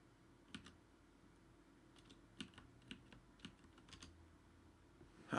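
Quiet clicks of typing on a computer keyboard, a handful of separate keystrokes spaced irregularly with short pauses between them, close and faint, no talking.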